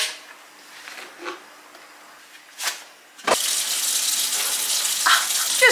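Tap water gushes steadily into a sink while washing up with washing-up liquid, starting abruptly partway through after quieter household sounds, loud and continuous to the end.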